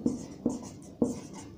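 Chalk or marker strokes on a classroom board, three short scratchy taps spaced about half a second apart, close and fairly quiet with no talking over them.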